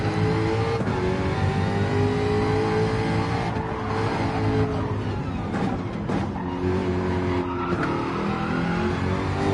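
A race car laps a track in Gran Turismo 7, its engine droning loud and steady throughout with rising and falling revs and brief tire squeal through corners, and no talking over it.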